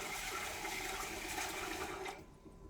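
Tap water runs steadily into a bowl while rice is rinsed, a continuous loud splashing rush that cuts off abruptly near the end, leaving a quieter fading trickle.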